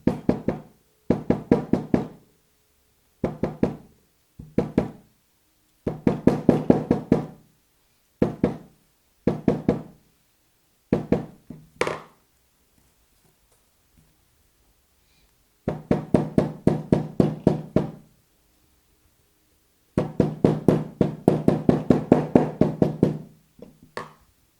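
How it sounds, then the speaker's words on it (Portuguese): Repeated knocking as an insole lining seam is hammered open, coming in quick bursts of sharp taps separated by short pauses, loud and close with no talking. "E eu vou batendo para conseguir abrir a costura."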